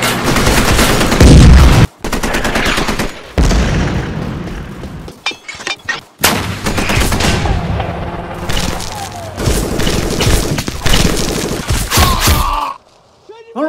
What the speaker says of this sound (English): Fire two more rounds and then we'll move.